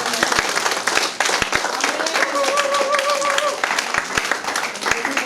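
A church congregation applauds together, a dense, lively burst of clapping mixed with scattered cheers and a preacher's voice over it.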